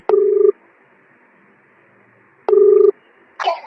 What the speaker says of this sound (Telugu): ఇప్పుడైతే ఫోన్ చేస్తున్నా అక్కకి.